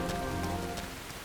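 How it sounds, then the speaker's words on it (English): Steady rain falls in Xenoblade Chronicles X, a dense, even hiss of drops on surfaces with a low game ambience underneath and no voices. "The rain's starting to let up,"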